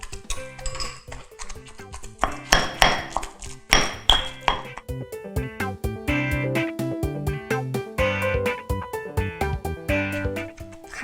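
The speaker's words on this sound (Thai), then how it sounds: "ใส่เนื้อปลาทูที่เราขูดเอาไว้ลงไปในโขลกเลย ใส่หมดเลยแล้วกัน ก็เริ่มโขลกเลยค่ะ" Scraped mackerel flesh pounded in a mortar, giving repeated dull thuds and sharp clinks in an uneven rhythm, close and fairly loud.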